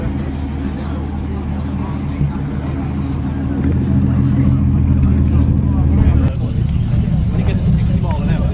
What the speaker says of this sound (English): Tuned up Metro leaving now